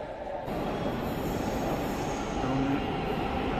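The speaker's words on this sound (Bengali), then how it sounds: "মতিঝিল ট্রেন আসছে উত্তরা থেকে, এখানে স্টেশনে ভিড়বে" A Motijheel metro train coming in to the station platform from Uttara, a steady rumbling wash of rail noise building after a quiet start, with a brief squeal of wheels near the end and no voices.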